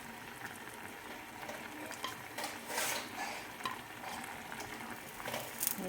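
Dried fish (daing) and squash (kalabasa) frying in a pan, a continuous soft sizzle and crackle with occasional stirring scrapes, quiet and close with no talking.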